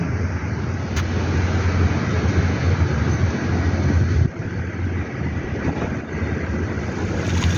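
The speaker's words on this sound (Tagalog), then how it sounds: "malakas ang alon" Strong waves at Laguna Verde, a steady roaring wash of surf heard at moderate distance with wind buffeting the microphone, continuous and unbroken with no talk.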